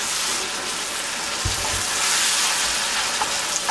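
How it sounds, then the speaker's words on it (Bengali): Chopped tomatoes and salt frying in a pan for shakshouka give a steady, close sizzling hiss with a few soft stirring bumps and no talking. "এটাকে বেশ ভালো মতো আমি ভুনে নিব, বেশ 4-5 মিনিট সময় নিয়ে আমি এটাকে ভুনব"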